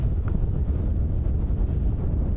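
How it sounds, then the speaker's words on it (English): Steady, gusty wind buffeting outdoors on a cold African safari day, a constant low roar with rushing noise throughout and no voices. "I'm sure you can hear the wind howling"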